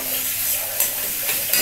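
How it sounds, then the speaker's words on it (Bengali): Food frying in a pan until crisp and reddish for egg khichuri gives off a steady hiss of hot-oil sizzle, with a couple of faint clinks of stirring over the constant crackle. "এটা একদম লাল লাল করে আমাকে মচমচা করে ভেজে নিতে হবে।"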